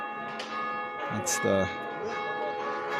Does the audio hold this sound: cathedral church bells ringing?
yes